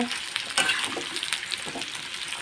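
Chopped onion sizzling and frying in a pan while being stirred, with scraping clicks of a spatula over a steady close hiss.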